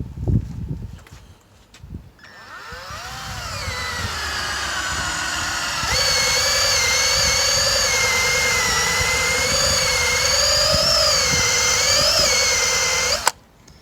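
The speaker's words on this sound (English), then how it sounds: "Gone and got a toffee wheel, hopefully that will remove it." A toffee caramel wheel on a power drill whines up and holds a loud, steady high pitch while it removes decal glue foam pads, its tone wavering under load before the drill stops abruptly.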